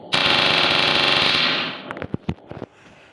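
A gun fires a loud, rapid automatic burst lasting over a second, followed by several separate sharp shots that die away, close and alone without talk.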